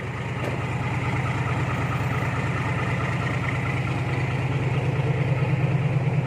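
A truck's engine sits at idle, its deep pulsing rumble steady and nearby with an aggressive edge, swelling a little toward the end.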